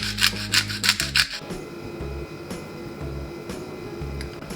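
Potato salad being stirred in a bowl with Dijon mustard, chopped egg and onion, giving a run of quick rubbing, scraping strokes up front, then quieter intermittent scrapes and thumps close by, with no talking.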